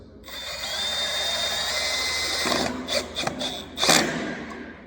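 A power drill drives screws into wood in a warehouse, a loud continuous whirring whine for nearly three seconds, then a few short bursts and a final strained grinding spurt.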